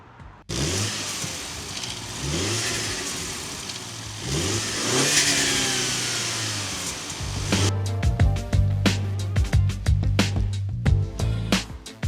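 A Mini F56 with its standard, restrictive intake revs up repeatedly, the engine climbing and falling in several close, loud pulls, then settling into a steadier drone with rapid crackling bursts toward the end.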